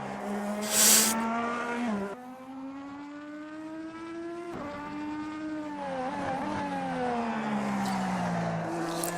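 A race car in the Automobilista 2 driving game screams at high revs, its engine note climbing and dropping sharply through quick gear changes with a brief tire squeal, loud and steady with no talk.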